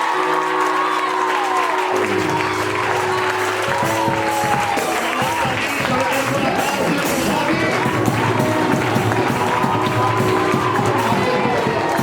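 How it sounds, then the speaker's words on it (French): A church congregation applauds and cheers for God during a Sunday service, the clapping and crowd noise steady and loud throughout, with musical tones beneath. "J'aimerais qu'on acclame Dieu pour son épouse."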